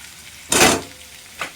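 Turmeric, salt and spices hit a hot pan with one loud hissing sizzle burst, then quieten, and a second, shorter sizzle follows a moment later.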